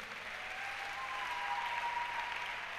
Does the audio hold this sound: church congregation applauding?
yes